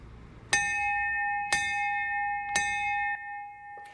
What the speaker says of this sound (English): honored Lieutenant Scott Gillen with a ceremonial bell ringing, marking 25 years since his death in the line of duty